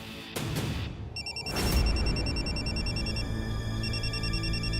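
An electronic phone ringtone plays a repeating high, beeping melody that keeps cycling, preceded by a couple of soft thumps and a low rumble.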